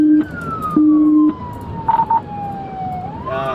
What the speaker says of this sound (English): he's using turn signals, but I got my sirens on